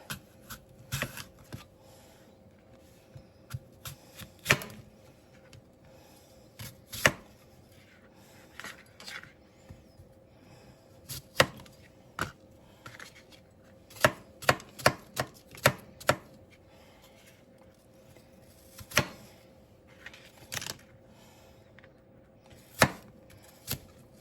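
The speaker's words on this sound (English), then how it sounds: "let's chop our apple." Knife chopping an apple on a cutting board, given as a Thanksgiving side dish: irregular sharp chops and taps, close and fairly loud, some in quick bursts and others spaced out, with no talking.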